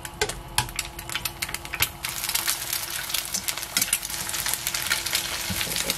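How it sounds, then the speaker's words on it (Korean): Eggs fry in a generous amount of oil in a pan for chive scrambled eggs, crackling and sizzling with a busy patter of pops and occasional clicks of stirring, close and continuous. "실파 계란 스크램블 한번 해보겠습니다."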